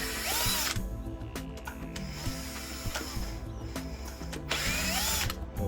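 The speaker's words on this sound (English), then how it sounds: "let's get your screwdriver or your drill" A power drill whirs in repeated bursts as it backs two screws out of the end cap of a retractable screen cassette, with ratcheting clicks between the runs. The sound is close and fairly steady, and no one speaks.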